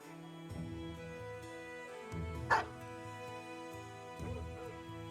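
A dog in the video game Battle Brothers gives a few short barks and yips spaced over a steady game soundscape, with one sharper bark standing out midway.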